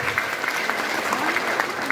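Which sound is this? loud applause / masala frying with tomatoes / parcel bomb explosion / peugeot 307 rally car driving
loud applause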